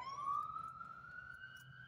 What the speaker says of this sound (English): That's an ambulance in the background